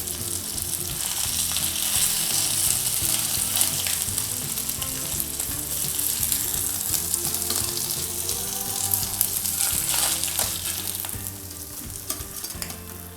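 Fish frying in hot oil, a loud, dense, continuous sizzle and crackle with bubbling, close up and steady throughout.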